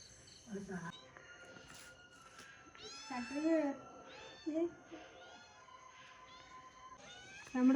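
A cat meows several times, soft and fairly close, with short high mews spread across a quiet background.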